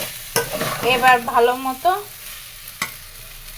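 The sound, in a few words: rice being stir-fried in a pan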